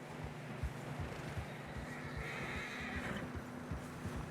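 A horse whinnies and neighs in Red Dead Redemption 2, trudging through fresh snow, over a soft backdrop of plodding hooves and low rumble, fairly close and steady throughout.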